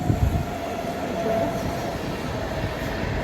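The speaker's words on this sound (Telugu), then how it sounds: "ట్రైన్ వెళ్తుంది, పక్కనే ట్రైన్ కొద్దిగా సౌండ్ వస్తుంది" A train rumbling past close by, a steady low roar with faint rail clatter running through the whole stretch.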